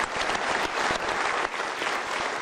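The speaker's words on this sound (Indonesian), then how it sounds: "Kita berikan sekali lagi tepuk tangan." A brief, dense burst of audience applause at a school exam-preparation event, many hands clapping together at an even level from start to finish.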